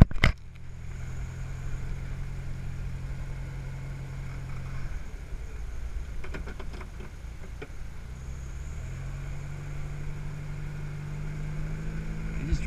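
A 1963 Volkswagen Karmann Ghia drives along with a steady low engine drone throughout, easing off briefly mid-run before picking back up, with a few faint rattles over the top.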